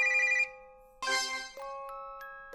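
An electronic ringtone for a phone video call chimes in sustained tonal bursts, a few notes rising and falling with short gaps, clear and close with no voices.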